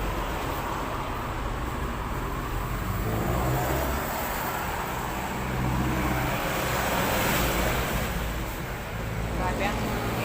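Steady road traffic on a dusty, sunny roadside, with continuous engine and tyre rumble from many passing vehicles forming a constant wash, swelling slightly mid-way.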